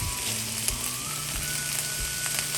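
Chicken sears in a pan with a constant close sizzle and crackle, joined by a low hum and a few soft clinks.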